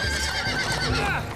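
A horse whinnies sharply with a brief clatter of hooves, close and loud over a short moment.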